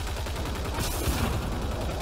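Rapid automatic weapon fire in the video game Mass Effect Andromeda, a dense, steady stream of repeated shots, loud and continuous, with no talking.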